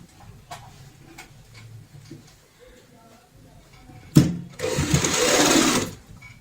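A sewing machine stitches a cloth purse made from old fabric, its fast whirring run lasting about two seconds after a loud start, preceded by a stretch of quiet ticking and small handling sounds.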